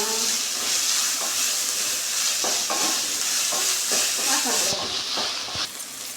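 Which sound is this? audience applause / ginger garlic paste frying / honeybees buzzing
ginger garlic paste frying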